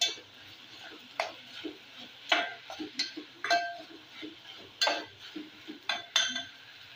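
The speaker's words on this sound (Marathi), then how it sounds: "तेतून खोबरें घालता आनी बरें मिक्स करून घेता" A spoon stirs cooked banana vegetable with grated coconut in a pan, producing a series of soft scraping strokes and light metallic taps in an irregular rhythm, close and fairly quiet.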